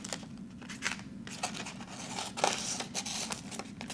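Scissors trimming craft material, likely vinyl or paper for a fall Cricut project, making soft, close snips and crisp rustling over a quiet room hum with no talking.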